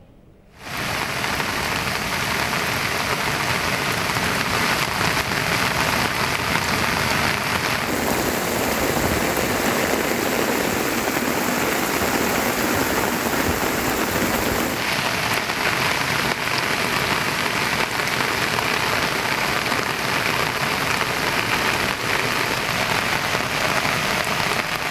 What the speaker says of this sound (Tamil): நிரம்பி மழைநீர் வெள்ளம் போல ஓடுகிறது.